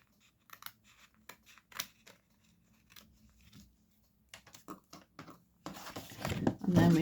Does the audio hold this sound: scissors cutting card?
yes